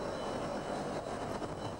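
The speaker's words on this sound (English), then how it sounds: "The rescue helo is the first to take off." A rescue helicopter takes off from an aircraft carrier flight deck. The engine and rotors make a loud, steady, continuous roar that fills the clip without letup.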